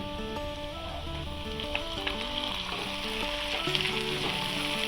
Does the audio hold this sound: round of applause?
no